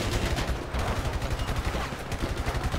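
Rapid gunfire during a bank robbery shootout in GTA V, a dense continuous rattle of shots with overlapping bursts, loud and close throughout.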